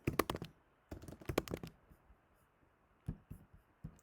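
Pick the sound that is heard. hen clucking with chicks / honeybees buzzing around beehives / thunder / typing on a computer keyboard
typing on a computer keyboard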